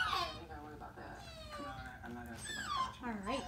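A dog in training whimpers and whines in high, wavering cries that rise and fall repeatedly, heard up close under a trainer's talking.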